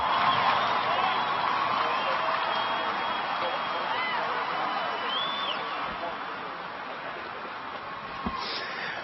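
A large crowd at the final-day weigh-in of the 2017 Bassmaster Classic applauds and cheers steadily for a family, a dense continuous wash of clapping and whoops that fades slightly toward the end.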